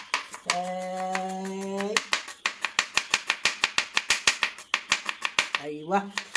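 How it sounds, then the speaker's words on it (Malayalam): A knife chops onions rapidly on a cutting board in a quick, even run of crisp strikes. A voice is heard briefly before and after the chopping. "ഞാൻ കച്ചം പറഞ്ഞ് ഉള്ളി വെട്ടുകയാണ് ഗായ്സ്"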